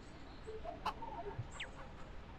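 Chickens cluck faintly on a farm in the video game Ranch Simulator, a few sparse, quiet clucks scattered over soft background noise.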